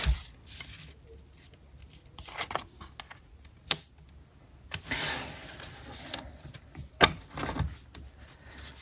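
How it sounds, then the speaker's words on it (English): Tarot cards being shuffled by hand, giving bursts of papery riffling and flicking at irregular intervals with quiet pauses between, close and moderately loud with no talking. "I'm just going to shuffle some tarot cards"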